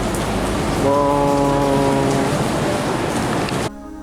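Steady rain falls across the streets of Taipei's Xinyi district near Taipei 101, a dense broadband hiss with a brief voiced exclamation and a passing tonal hum in the middle, ending abruptly in a quieter tail.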